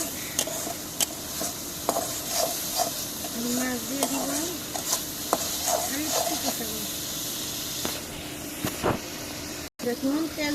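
Spice paste stir-fried in a hot pan hisses and sizzles steadily up close, with frequent scraping and clinking of the stirring utensil and a voice murmuring over the frying.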